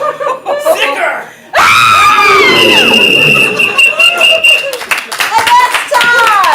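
A live audience at a ComedySportz improv comedy show bursts into loud applause, whoops and high-pitched cheering, sustained clapping with scattered shouts and laughter following a short stretch of performers talking.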